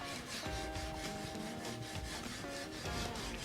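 Steady back-and-forth rasping of hand sanding on a titanium knife, continuous strokes close to the mic with no talking.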